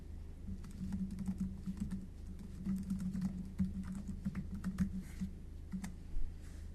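Footnote text is typed on a computer keyboard, a quiet, close run of steady key clicks with brief pauses and no voices.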